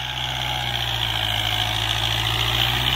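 A tractor pulling a plough through a field drones with a steady, loud, low engine rumble and a constant mechanical hum throughout, with no talking.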